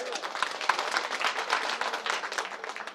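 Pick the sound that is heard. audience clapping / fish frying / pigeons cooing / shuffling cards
audience clapping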